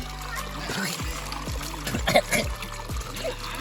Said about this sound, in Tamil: சைடில் பாருங்கள் தண்ணி ஊற்று.